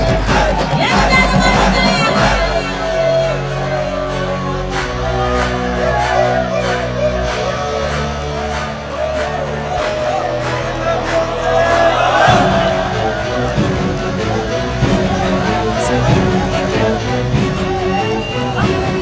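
Crowd hubbub at a film event, a dense continuous babble of many voices with occasional shouts and whoops, steady and fairly loud, with music and a nearby voice over it.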